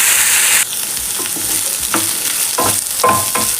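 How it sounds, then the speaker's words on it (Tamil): Fresh mint leaves sauté in a pan for chutney, giving a loud steady sizzle with repeated scraping stirs every half second or so, close and alone. "ஒரு 2 நிமிஷம் புதினா வதங்கட்டும்."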